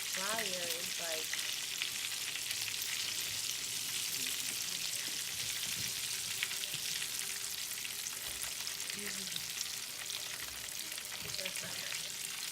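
Shrimp frying in a deep fryer for a po'boy, a steady close bubbling sizzle and crackle holding evenly throughout, with faint voices underneath.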